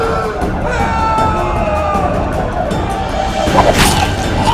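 Raging crowd of rioters in a Witcher 2 video game cutscene, a dense steady roar of many voices with a sharp crash near the end and a narrator speaking over it.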